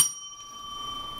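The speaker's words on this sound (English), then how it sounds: "You don't need to ring the bell if you want to participate." A single bell ding at a meeting, bright and close, its clear ringing tone sustaining and slowly fading over about a second with no voices.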